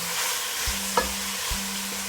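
Chana dal cooking in a pot is stirred with a spoon, giving a soft steady sizzle broken by a couple of clear scrapes and knocks against the pot.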